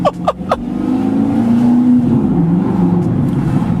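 A cheap high-mileage supercar's engine revs in manual mode, opening with three short sharp blips and then a sustained loud, rising and falling roar close to the microphone.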